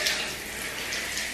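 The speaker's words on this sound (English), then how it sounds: "Never thought I'd bring you guys in to watch me shower" A home shower runs steadily, a close, even hiss of falling water spraying without pause.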